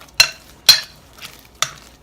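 Spoon stirring pink Himalayan salt into a potato pancake mixture in a bowl, heard as three separate scraping strokes, close and fairly loud, with quiet pauses between them.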